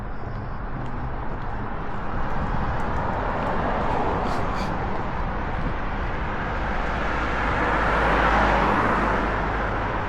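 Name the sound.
cars driving by on a road in Bobowo, Poland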